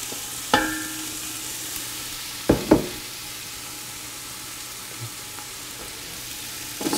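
Carrots cooking in hot oil at the bottom of a soup pot give a steady, soft sizzle throughout, close by, broken by a few sharp knocks of a spoon or utensil against the pot.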